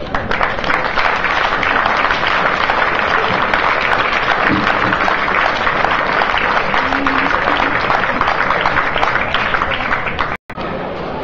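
An audience applauds at the end of a history talk in Donostia, a dense, steady wash of many hands clapping that continues without pause for several seconds, loud and close.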